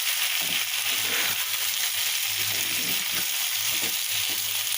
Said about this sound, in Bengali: পেঁয়াজ আলুগুলা ডিমগুলো একটু ভাজা হবে সুন্দর করে